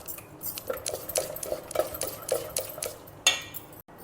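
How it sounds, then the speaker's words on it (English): A spoon stirring Kanchipuram idli batter with sesame oil in a bowl, giving a string of close, soft scraping and clinking strokes in a quick regular rhythm, with a sharper knock near the end. "We will give it a good mix."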